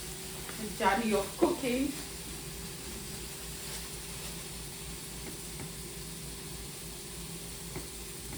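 Bacon fries in a pan with a steady, close, crackling sizzle, briefly covered by a spoken voice near the start and then continuing alone at an even level.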